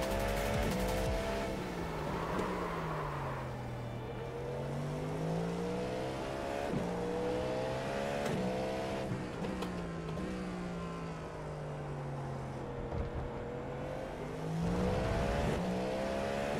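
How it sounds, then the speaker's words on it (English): A Cadillac V-Series.R GTP prototype laps Circuit of the Americas in an IMSA endurance racing game, its engine droning loud and continuous with pitch rising and falling through gear changes, while a faster car closes in from behind. "Faster car coming up quick"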